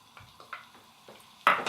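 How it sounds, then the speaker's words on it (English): Onions going into hot oil in a pan over medium-high heat: a few soft clinks of utensils on cookware, then a sudden bright sizzle that flares up near the end and keeps hissing. "Okay, so I'm heating some oil on medium-high heat. We're gonna start by sauteing our onions."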